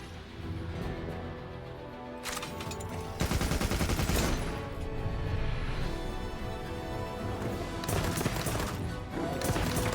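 Heavy bowgun in the Monster Hunter Wilds video game firing rapidly, dense bursts of booming shots layered with clanking and impact noise, loud and continuous with brief gaps.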